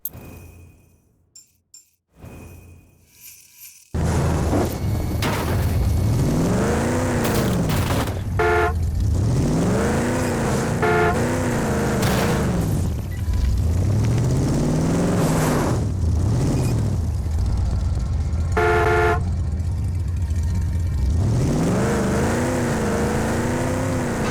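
Cars racing in Rage 2 video game: after a few seconds of quiet, a loud sustained engine roar kicks in, rising and falling as the vehicles rev and shift, with occasional horn-like tones cutting through.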